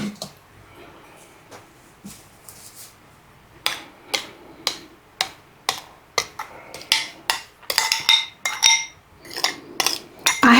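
Stirred macaroni salad mixture being added to a bowl with utensils, a series of sharp clinks and scrapes of metal against the bowl, sparse at first then quickening into a busy run of clatters.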